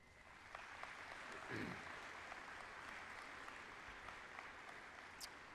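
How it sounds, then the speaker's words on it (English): Graduation ceremony audience applauding for the people who supported the nursing, business, social work and criminal justice graduates, a steady wash of clapping from a large crowd that holds throughout at a moderate, distant level. "Please give a wave and a round of applause to those who helped you along the way."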